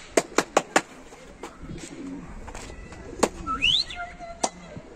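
A few quick wing claps burst out at the start as tumbler pigeons take flight, then soft pigeon coos and a brief higher bird call sound faintly amid light background noise.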